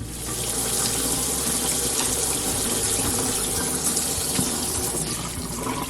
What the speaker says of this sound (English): I'm just running lukewarm water over her and inside of her